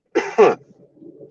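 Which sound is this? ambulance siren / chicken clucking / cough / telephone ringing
cough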